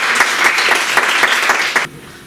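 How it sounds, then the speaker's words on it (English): A crowd claps steadily for a couple of seconds, dense and lively, then the applause cuts off abruptly into quiet. "A great applause for him."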